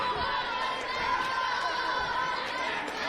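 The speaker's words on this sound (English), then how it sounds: "Crowd is chanting for Patrick." A wrestling crowd at an event in Sedalia, Missouri fills the space with a continuous, even roar of many voices, without clear breaks.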